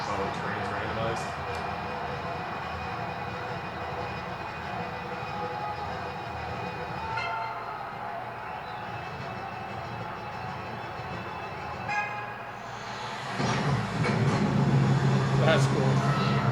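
A train moves along in the animated show RWBY, a steady rumbling rail sound with rhythmic clacks under a person talking over it, the sound swelling louder near the end.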